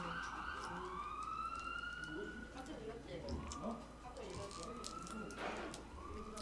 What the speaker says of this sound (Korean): 예, 사이렌 소리.